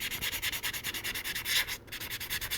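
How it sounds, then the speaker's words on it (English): Super fine sandpaper rubs back and forth over a surface in quick, even strokes, a close, rhythmic scratchy hiss with no talking. "I'm just gonna go with the super fine, and I'm gonna give this a good sanding"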